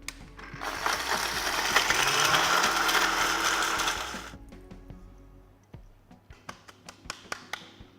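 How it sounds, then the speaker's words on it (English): An ordinary kitchen blender grinds spices for a Duck Chettinad masala with a loud, steady whirring roar for about four seconds, then cuts out, followed by a string of sharp, quick taps and knocks. "I'm going to use a normal blender"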